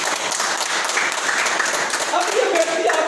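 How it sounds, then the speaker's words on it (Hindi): Audience clapping at a Hindi motivational talk on success, a steady broadband wash of applause filling the clip under some crowd noise and faint voices. "ताली बजा दो यार।"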